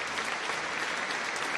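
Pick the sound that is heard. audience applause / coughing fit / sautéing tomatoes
audience applause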